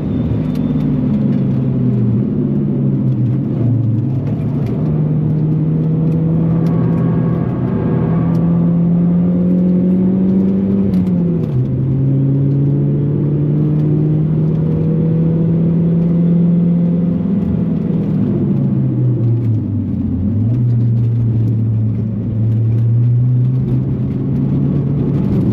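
A SAAB 9-3 Aero driven hard around the Nürburgring, its engine droning loud and steady from inside the cabin, pitch climbing through each gear and dipping sharply at the shifts, with no talk.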